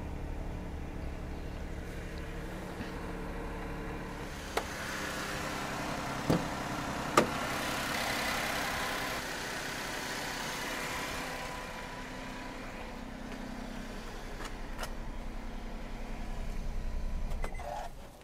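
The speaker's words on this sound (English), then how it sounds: "The engine sounds good, it's been serviced" A 2013 Honda N-Box G idling under the open bonnet, a steady low engine hum that stays even and fairly quiet throughout, with a few faint clicks along the way.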